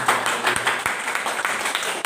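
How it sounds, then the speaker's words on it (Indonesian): Applause from a congregation at a church wedding ceremony: a short burst of many hands clapping together, steady and dense, moderately close, with no talk over it. "Tepuk tangan buat Tuhan Yesus"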